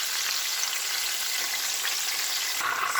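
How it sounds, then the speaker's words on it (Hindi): Fish sizzles steadily in hot oil over medium heat, a continuous bright crackling hiss with no voices, holding even throughout and shifting slightly in tone near the end. "इसमें फिश डाल देते हैं और इसको मैं कुक कर रही हूँ मीडियम हीट पर"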